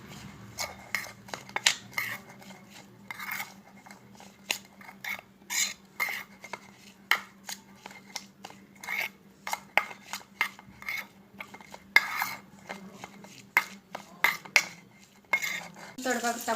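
Spices — chili powder, turmeric and salt — being stirred into food in a pan, with a spoon scraping and clinking against the metal in quick, irregular strokes throughout, close and fairly quiet with no talking.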